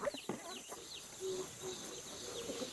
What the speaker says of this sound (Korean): 각양각색의 유럽 닭들 중에서도 신부님의 마음이 가장 쓰이는 녀석은 수로